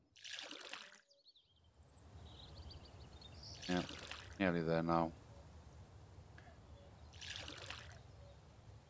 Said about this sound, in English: start filling up the water.